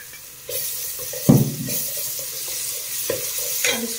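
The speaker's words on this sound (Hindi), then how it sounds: "तो मैं डाल दूंगी लहसुन अदरक का पेस्ट" Garlic-ginger paste hits hot oil for an aloo baingan sabzi with a sudden loud sizzle, then keeps frying with a steady hiss and occasional stirring splashes close by.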